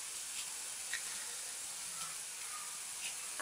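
Peeled garlic cloves and mustard seeds tempering in hot oil in a pan make a soft, constant sizzling hiss, with faint pops here and there and no one speaking.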